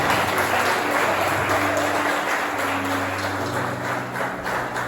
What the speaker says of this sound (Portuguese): aplauda o Senhor para esse povo